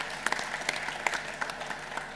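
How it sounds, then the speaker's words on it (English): An audience at a startup event claps in a fairly quiet, scattered round of applause, with individual sharp claps standing out over a soft continuous patter. "A big clap for Shift."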